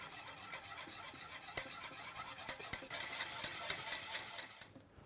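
Cream being stirred into a butter and flour roux for béchamel, a close, steady scraping and swishing of a utensil against the pan with quick rhythmic strokes that stop at the end.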